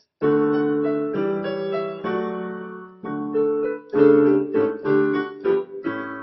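Piano plays a fully harmonized passage of sustained chords moving steadily, rich and close, with no voices.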